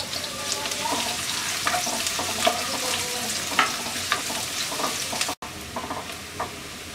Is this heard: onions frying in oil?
yes